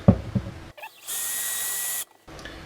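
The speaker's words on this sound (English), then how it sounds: "Now we're going to drill our pilot holes." A power drill bores pilot holes into a cabinet shelf to mount plug-in cabinet lighting: one steady, close, high-pitched whir of about a second, preceded by brief handling knocks.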